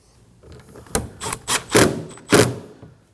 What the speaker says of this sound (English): Now we can go ahead and install these 2 screws. Do not over tighten these are going onto plastic.